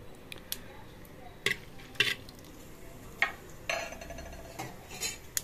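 Whole cardamom, cloves, a cinnamon stick, bay leaf and fennel seeds crackle in two teaspoons of hot oil as the base for a mutton chest bone soup, with quiet scattered pops and sharp utensil clinks against the pan.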